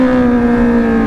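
A motorcycle exhaust held at a loud, steady rev, its engine note a sustained tonal drone with strong harmonics, close to the microphone and with no speech over it.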